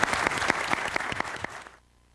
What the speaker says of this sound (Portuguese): a ministra foi aplaudida de pé por quem acompanhava a sessão